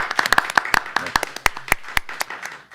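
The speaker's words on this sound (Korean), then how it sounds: "박수로 함께 행사 마무리했으면 좋겠습니다" Scattered clapping from a small group closing a Korean shoulder-joint day online ceremony, a few distinct sharp claps in an uneven rhythm, close and moderately loud.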